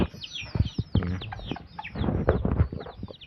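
Nine young white chickens in a pen cluck and peep close by, a busy overlapping chorus of short calls.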